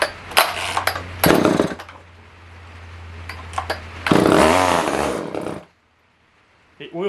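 A Poulan 1800 Wood Shark chainsaw starved of fuel sputters through short rough bursts, settles into a low uneven idle, revs up loudly for about a second, then dies to silence, with a voice heard briefly.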